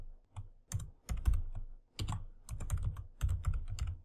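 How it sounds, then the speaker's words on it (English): Keystrokes on a computer keyboard while entering the title text of an HTML web page, bursts of close, crisp clicking separated by brief pauses. "let's type out"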